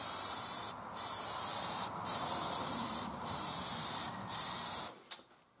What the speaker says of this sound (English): I've got a pan of brass here that I've spray lubed with Hornady One Shot